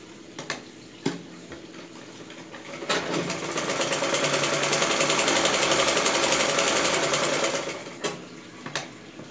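Sewing machine joining a blouse's lining to its main cloth, a steady motor run that swells for several seconds in the middle, framed by short bursts and clicks at the start and end.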